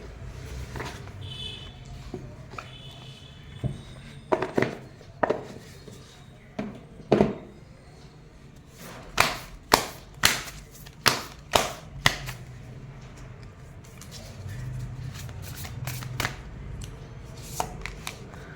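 Moonology oracle cards being shuffled by hand during a Hindi tarot reading, giving a run of sharp, close riffling snaps and slaps in short bursts, mostly without talk.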